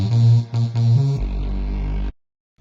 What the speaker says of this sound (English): making like proper Reese basses. Sounded like this, and I laid it with a sub from the Akai, so it sounded like this.